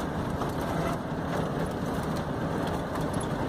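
A car brakes its way down the steep, high Serra de Araruna road in Paraíba, with a steady broadband rumble of engine and road noise filling the cabin throughout and no distinct squeal standing out.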